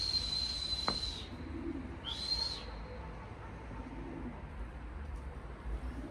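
A pigeon calls twice in the open air, a short tonal cry followed by another after a pause, over steady low outdoor rumble.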